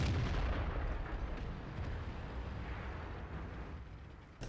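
Tank cannon fire in a tank video game, an E 50 Ausf. M battle on the Ruinberg map: a heavy boom opens, a long low rumble and rolling echo follow, and another sharp blast lands at the very end.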